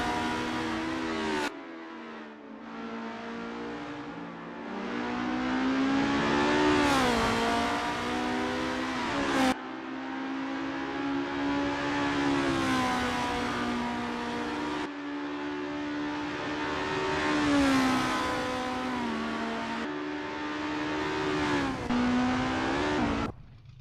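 At the 1988 Hungaroring, video-game racing cars warm up: loud engines rev and shift gears over and over, pitch sweeping up and falling away in close passes that are separated by brief cuts.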